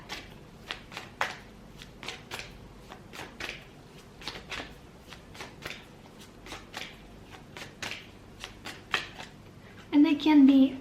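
Tarot cards are shuffled by hand in quick, soft flicks and riffles, close and fairly quiet, with a denser burst right at the end.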